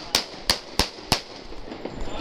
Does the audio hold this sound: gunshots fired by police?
yes